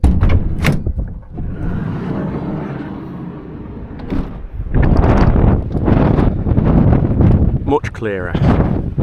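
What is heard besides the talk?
strong wind outside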